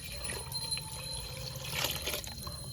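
Water poured from a large container into a cooking pot for rasiya bhat, a soft continuous splashing and trickling heard close by without talk.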